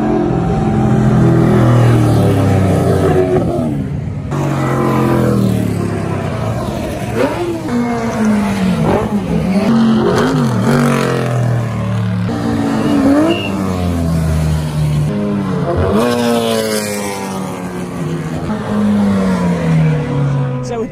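Classic race cars at the Bathurst 12 Hour circuit, engines roaring loud and close as they rev, accelerate and pass by in overlapping waves, with occasional tyre squeal.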